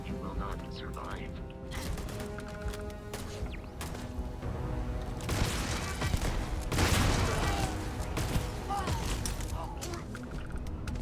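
Gunfire from a turret during Starfield combat crackles in bursts amid clanking mechanical game effects, dense and continuous, with a voice speaking over it.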